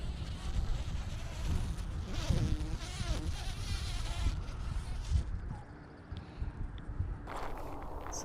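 A bumble bee buzzes in flight outdoors in the Pacific Northwest, a wavering drone that rises and fades as it moves near and away over rustling background noise, with no talk.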